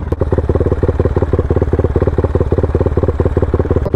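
Honda Sonic 250cc motorcycle engine pulling in second gear, a loud, close, rapid and even low-pitched thrum with a steady firing pulse throughout and no talk.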